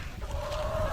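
Backyard hens in snowy weather under netting, a single drawn-out clucking call rising out of steady low outdoor rumble, close and moderately loud.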